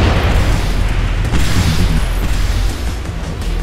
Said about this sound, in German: Ich schieße mit dem Mörser.